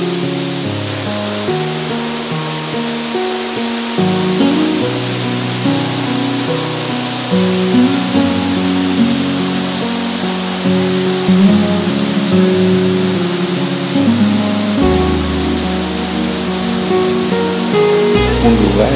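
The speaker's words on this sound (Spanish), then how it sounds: "Nos encontramos aquí en la cascada Puente del Fierro" The Puente del Fierro waterfall in Santa María Chilchotla, Oaxaca, pours with a loud, continuous rushing roar that fills the scene for nearly twenty seconds.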